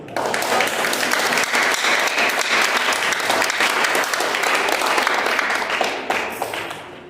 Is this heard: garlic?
no